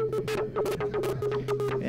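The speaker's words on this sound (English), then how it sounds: "you can hear these sort of classic shortwave, crazy swoopy things." An RF Nomad voltage-controlled shortwave radio receiver tunes a signal, giving fast, swooping whistles and warbles over a steady low hum and static. The sweeps repeat in quick succession and play alone at moderate volume.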